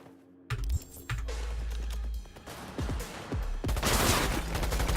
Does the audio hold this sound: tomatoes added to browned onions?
no